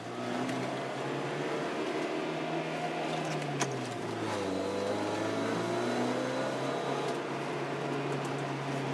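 A steady engine drone from inside a moving VW Jetta pickup truck fitted with a speed air filter, its pitch dipping and rising as it shifts, with constant road noise throughout.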